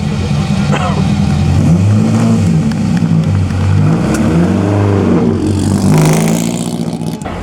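Vintage four-cylinder Mondale race car driving past at a Pebble Beach concours, its engine loud and close with rising and falling revs as it goes by, a voice talking over the engine noise.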